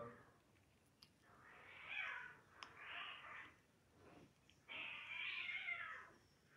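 Cats fighting on a balcony let out long, strained yowls and caterwauls in three drawn-out bursts, fairly faint and at a short distance.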